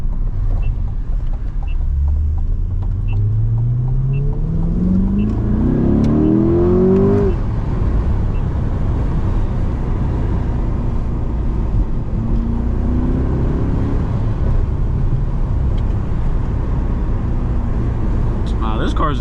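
A loud Chevrolet C8 Corvette engine revs while driving in sport mode, rising in pitch through the gears with a roaring climb, a shift, then another pull under a constant rumble.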